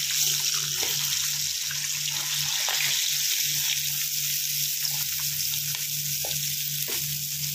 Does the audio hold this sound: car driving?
no